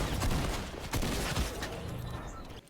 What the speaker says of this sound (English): His response to this was popping out and shooting at me.